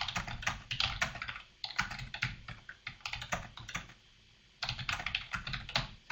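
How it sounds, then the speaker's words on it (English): Typing on a computer keyboard, with dense runs of close, crisp key clicks that break off for a short pause and then resume at a steady pace. "so type some text in."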